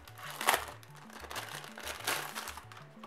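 A plastic pouch holding the manuals crinkles while an HP 7 Plus tablet is unboxed, in two short close bursts over a soft steady tonal background.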